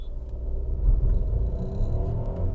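A Volkswagen Virtus fitted with a Maxoto pedal box accelerates from a standstill, heard from inside as a steady low engine rumble and drone, with no talking.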